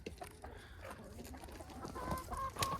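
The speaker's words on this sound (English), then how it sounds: "Clearly a Rhode Island Red Rooster." A young Rhode Island Red rooster gives a few short clucks close by, low throaty calls ending in sharper, higher notes over faint farmyard background.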